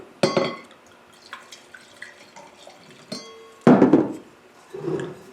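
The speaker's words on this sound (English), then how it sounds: "But we need to rinse." A wine glass being rinsed during a red wine and pizza tasting, with sharp clinks of glass and short splashes of water swirling and dripping, loud near bursts separated by quieter trickles.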